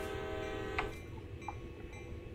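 A locomotive horn sounding in the Train Sim World simulator, one sustained multi-tone blast lasting under a second over a low engine rumble, followed by a couple of short clicks.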